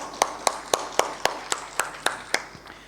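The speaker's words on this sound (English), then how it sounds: "Let's give them a huge round of applause," About ten evenly spaced sharp claps ring out in a steady rhythm for panel members at a packaging innovation discussion, moderately close and fairly quiet, with no talking over them.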